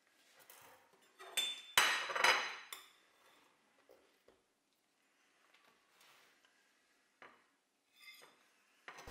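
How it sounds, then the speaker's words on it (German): A knife cuts a slice from a cherry cake and scrapes against the tin or plate, making a few sharp metallic clinks close by. Softer scraping taps follow with quiet pauses between them. "Ich schneide mir hier gleich noch ein Stück heraus"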